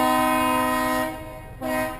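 A loud horn sounds while backing out on Nantucket, signalling with sustained blasts: one long steady blast, a brief dip, then another starts, close and clear with no talking.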